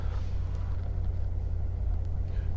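A 2017 Chevrolet Corvette Grand Sport 2LT idling nearby, its exhaust giving a low, steady rumble that holds evenly with no revving for the whole short stretch.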